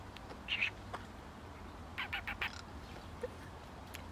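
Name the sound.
bird calling, duck-like quacking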